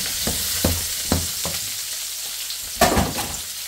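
Chicken feet sizzle in a frying pan while a utensil stirs them in several distinct scraping strokes. A louder clattering stir comes near the end, over a continuous close hiss.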